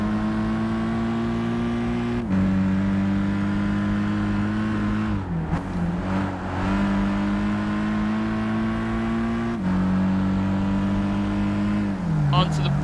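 Race car engine in Gran Turismo 5 drones and revs loudly throughout, with the pitch dropping at several gear shifts and downshifts, while a player talks over it.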